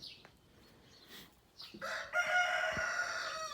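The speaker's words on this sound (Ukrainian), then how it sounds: "Бачите, ранок, півень кукурікає" A rooster crows once, loud and drawn out, in the morning after a moment of quiet outdoor ambience with a few faint clucks.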